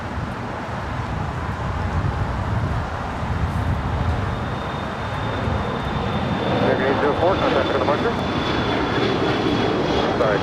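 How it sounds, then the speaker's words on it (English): An Air China Boeing 787-9 Dreamliner arriving from Beijing roars in to touch down on the north side at LAX, a loud, broad engine rumble that swells toward the end, with a faint high whine above it. "This is Air China Flight 601, about to touch down there on the north side, coming in from Beijing."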